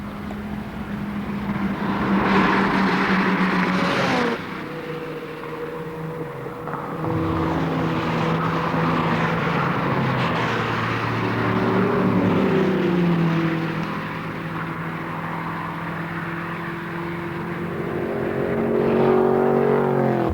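A Datsun 240Z and a Ford Mustang racing around Summit Point Raceway, engines droning loudly with rising and falling pitch through shifts and corners, a continuous close roar without voices.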